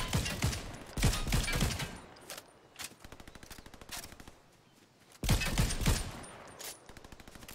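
Rapid sniper rifle shots and gunfire crack in a Fortnite battle royale match, loud sharp bursts clustered at the start and again near the end, with a run of quicker repeated shots in between.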